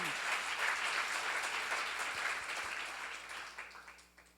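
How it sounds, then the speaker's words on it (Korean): A church congregation at a seminar breaks into applause, many hands clapping in a dense wash that gradually fades over a few seconds, with no talking over it. "박수로 하세요."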